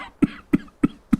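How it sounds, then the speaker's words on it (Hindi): Men cough from smoke in four sharp, evenly spaced coughs, close and fairly quiet with no talk around them. "जेठ और देवर धुएं से खांसते हुए"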